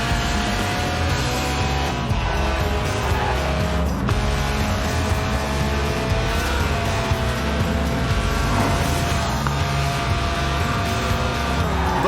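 A Lotus Elise Sport 190, a tuned, stripped-out rear-wheel-drive track-day car, slides completely sideways with a loud, continuous engine roar and tire squeal that stays steady throughout.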